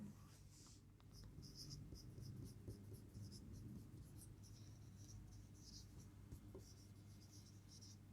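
Pen or marker writing out multiple-choice answer options for a reasoning question on counting figures, a soft continuous scratching under a steady low hum and faint background noise, with no talk.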